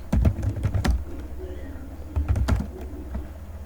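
Typing on a computer keyboard while writing C code, with two close bursts of quick clicky keystrokes separated by a short pause and a low background hum.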